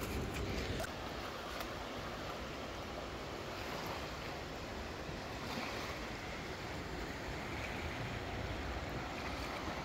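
Quiet ambience on a small river beach below a mountain near the Eisriesenwelt ice cave in Austria, with soft steady wash of water and light wind buffeting the microphone throughout.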